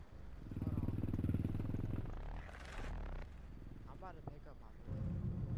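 A motocross bike engine in a Roblox video game revs in loud, buzzy bursts, with a sustained rev at the start and another at the end, while someone talks over the engine noise in between.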